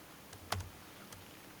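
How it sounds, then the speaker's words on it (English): A few light clicks of a computer keypad, one sharper keystroke and a fainter one later, quiet and isolated with no talking. "I'm triple clicking on the letters with my keypad"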